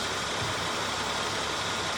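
A Jeep CJ7 with a 258 inline six engine idles steadily during a tune-up, a dense, even mechanical drone with a low rumble that carries on without a break for the whole stretch.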